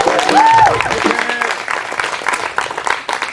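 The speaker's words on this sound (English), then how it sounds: "So round of applause to them." An audience applauds a band at a football awards night, a loud, dense wash of clapping that swells at the start and then carries on steadily, with a crowd murmuring and a voice speaking through it.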